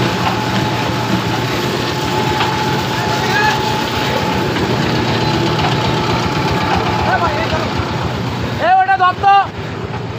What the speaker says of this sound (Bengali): দেখেন এই যে চলতেছে মেশিনগুলো রিয়েল।